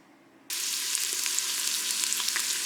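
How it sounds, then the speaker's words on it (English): Garlic and ginger hit hot oil in a pressure cooker pot and burst into a loud, steady sizzle that holds without a break after a quiet start. "we're going to get a little bit of a saute going after that"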